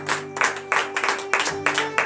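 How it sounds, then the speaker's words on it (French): A standing church congregation at a Monday morning prayer service in Benin claps in a steady rhythmic beat, with sustained tones droning underneath. "donner de vive acclamation à notre Seigneur Jésus"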